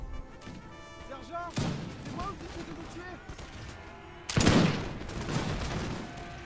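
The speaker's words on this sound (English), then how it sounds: "So here he has his Jaeger units and his musketeers firing down on the militia." Jaeger units and musketeers fire volleys in Napoleon Total War, with two loud crackling musket fusillades and scattered distant shots beneath, while someone talks over the battle.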